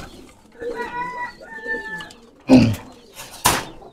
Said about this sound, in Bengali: এটাও একটা M4 জেনারেশনের কবুতর